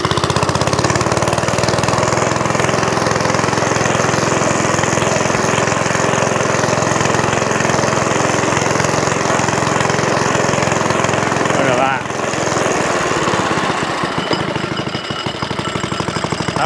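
A vintage 1960s Suffolk Corporation Mk2 petrol lawnmower runs at full throttle, a loud, steady, close engine drone that dips briefly near the end as the throttle is turned down, with some faint talk.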